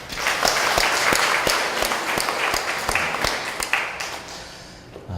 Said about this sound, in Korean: 하나님께 감사의 박수를 한번 좀 올려드리겠습니다